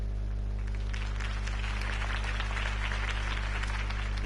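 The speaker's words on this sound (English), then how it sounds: "If only Mr. Wayne, my campaign's largest backer, could have heard that applause" A crowd applauds at a political campaign rally in a Batman video game, the clapping steady and dense across the whole moment over a low electrical hum.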